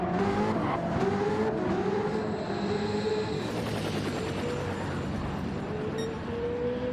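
A race car in a racing video game runs a solo lap, its engine a continuous whine that rises and falls through gear changes, with brief tyre squeal and no other sounds.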